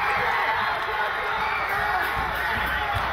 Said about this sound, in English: But the cheering is short-lived.